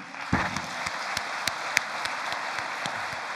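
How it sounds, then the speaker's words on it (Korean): Applause from a church congregation at a Unification service rings out after a brief louder burst near the start, then continues as steady, moderately distant clapping with a few sharper individual claps standing out. "통일당을 위해서 여러분 박수 한번 쳐주십시오"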